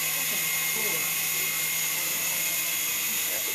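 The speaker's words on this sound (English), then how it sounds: "This is my helicopter" A video game helicopter's constant mechanical whir drones evenly throughout, with a bright, high hum and little variation.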